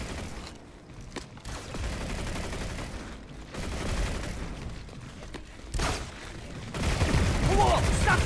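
Bursts of gunfire in Planetside 2, rapid automatic volleys and scattered shots crackling loudly in uneven clusters, with a voice speaking briefly among them.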